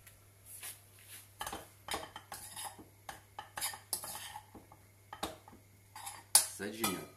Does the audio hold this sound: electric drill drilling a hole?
no